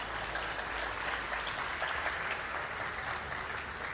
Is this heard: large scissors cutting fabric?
no